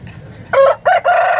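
A native country rooster crows loudly and close by at a Vijayawada poultry market, a single harsh call broken into three bursts over faint low background rumble.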